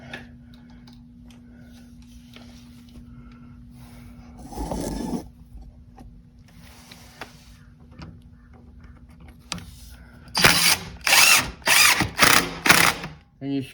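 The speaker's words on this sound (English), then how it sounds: "And you screw it in place like that." A power drill drives screws into a wooden strawberry planter, with a short burst of whirring around the middle, then a run of several quick ratcheting bursts near the end, each clear and close.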